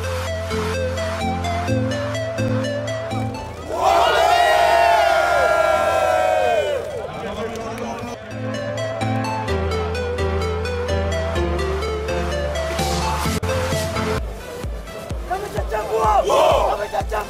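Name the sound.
rugby sevens crowd cheering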